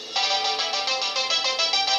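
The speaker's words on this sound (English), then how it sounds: "Ringtone?" A repeating electronic ringtone chimes in a rapid, bright pulsing pattern. It plays loud and close with no talk over it.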